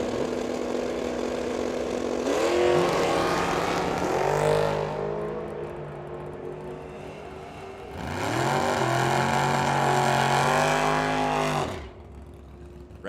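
Drag racing cars, one a 1966 Mustang, rev and launch at the track, with two long loud bursts of engine roar that rise in pitch and then drop away, separated by a quieter idle.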